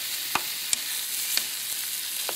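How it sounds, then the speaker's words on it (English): Chicken pieces sear in a hot frying pan with a steady, loud sizzle, broken by a few sharp clicks and scrapes as the meat is stirred and moved around. "We want to seal off this chicken so it all looks like this piece right on the outside."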